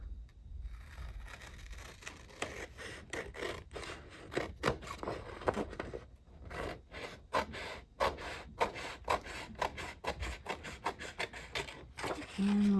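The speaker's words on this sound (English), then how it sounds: "So we're just going to trim around the edges." Felt being trimmed around the edges of a composition notebook cover, giving close, repeated scraping and snipping bursts in an irregular rhythm with no talking.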